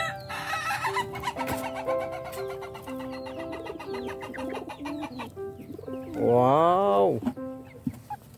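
Small chickens, including colorful and serama birds, cluck and crow while being loaded onto a truck, with busy overlapping calls throughout and a louder crow-like call near the end; a voice speaks briefly over them.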